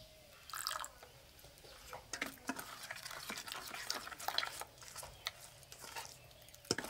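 Water is added to a semolina and rice batter, then stirred, producing faint, close wet clicks, soft drips and light scraping at an uneven pace, with no talking.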